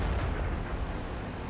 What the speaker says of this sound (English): that was artillery hitting me